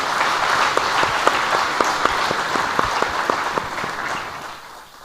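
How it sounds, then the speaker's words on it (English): Audience applause at a unitholders' meeting, a steady, evenly sustained round of clapping that tapers off toward the end. "just one big round of applause for the fantastic team here."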